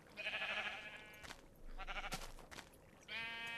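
Sheep in a Minecraft automated wool-shearing machine bleat three times, clear and fairly close, each a wavering, nasal call, with short mechanical clicks between them.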